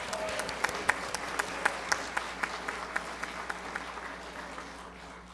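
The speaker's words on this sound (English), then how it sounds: "get your hands ready to clap for this one" A church congregation applauds a youth accepted to Georgia Tech as a physics major, a steady wash of many hands clapping with sharp individual claps rising above it, moderately distant and sustained throughout.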